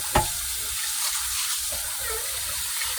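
Rice is washed by hand in water, giving a steady close swishing and sloshing with a sharp knock near the start and soft splashes throughout.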